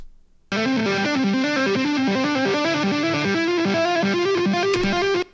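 A heavily distorted synth-like tone processed with a stereo delay plugin plays a repeating pulsing pattern with echoing delay, loud and continuous for about five seconds before cutting off.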